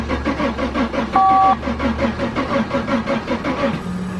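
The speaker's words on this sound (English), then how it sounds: "Okay, we're gonna crank it." A 1997 Mercedes-Benz E320 with 119,000 miles cranks without firing, its starter churning in a steady, rhythmic pulse for about four seconds, with a brief electronic tone sounding partway through.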